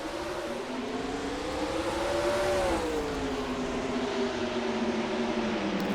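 Stock cars in the NASCAR Racing 2003 game accelerating hard on a restart at Oswego, a loud sustained engine roar rising in pitch, dipping, then climbing again.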